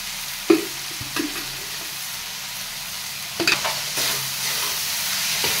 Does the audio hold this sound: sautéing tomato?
yes